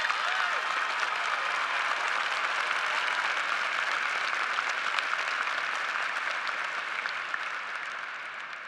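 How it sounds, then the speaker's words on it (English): A large audience at a Syracuse University commencement ceremony claps in a sustained, even wash of applause that holds steady throughout and eases slightly toward the end. "Let's give her another round of applause."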